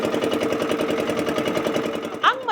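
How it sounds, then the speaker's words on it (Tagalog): A boat engine runs at sea off the Gigantes Islands in Iloilo, a rapid pulsing mechanical chug that stays steady and close, with a brief voice-like sound near the end. "tunog ng makina,"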